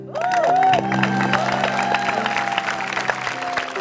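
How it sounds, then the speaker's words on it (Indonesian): Studio audience applause on an Indonesian TV talk show, a sustained crowd clapping close and loud throughout with a constant tone and some voices mixed in. "Boleh kalian semua tepuk tangan yang ada di sini."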